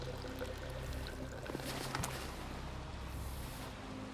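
Water pours steadily into a bottle in the video game DayZ, a continuous rushing trickle at moderate volume with a few faint clicks and no talking.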